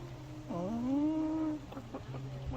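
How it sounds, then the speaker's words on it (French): A hen gives one drawn-out cluck followed by a few short clucks, fairly close, over a steady low hum. "Une poule."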